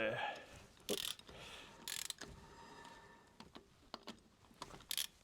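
A hand ratchet snugs up bolts on Ford F150 rear brakes during a rotor and pad replacement, producing faint, close clicking bursts in short repeated runs over quiet background.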